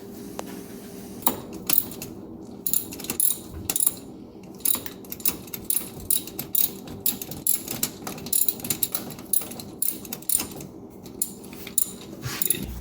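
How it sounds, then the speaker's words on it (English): A ratchet wrench tightening a bolt that holds the wire harness bracket to the starter on a 1996-2000 Honda Civic, CR-V or Acura Integra, heard close as many short clicking bursts in an uneven rhythm with metallic taps between them. "I'm tightening up this bolt here that attaches the bracket, the wire harness bracket, to the starter."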